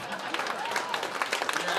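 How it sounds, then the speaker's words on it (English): Concert audience at a saloon show gives a short, light burst of clapping, a scattered patter of hands filling the room for under two seconds. "You can do half a clap."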